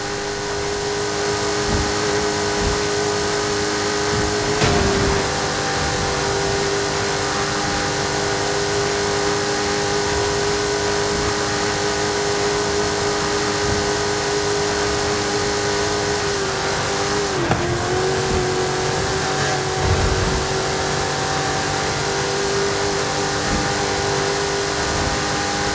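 A race car engine in a racing video game, a loud sustained drone with a steady high tone and brief pitch shifts around cornering, no talk.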